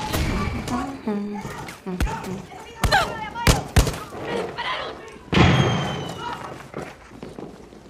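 Bombs go off in the Far Cry 6 game, several sharp booming blasts spread across the clip amid game music, effects and talking voices.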